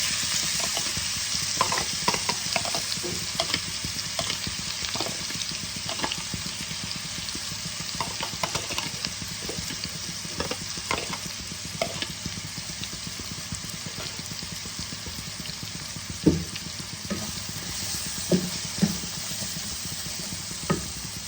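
A grated paste of onion, garlic, ginger, tomato and green chilli fries in a pan, giving a continuous loud sizzle with occasional stirring scrapes and sharper pops, and no talk over it.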